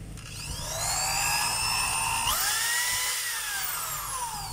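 A DeWalt DWD014 3/8-inch corded drill runs continuously with a high whining motor, its pitch jumping upward partway through as the speed rises, loud and close with no speech.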